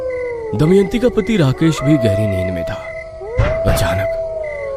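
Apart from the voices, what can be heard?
jackal howling at night, sound effect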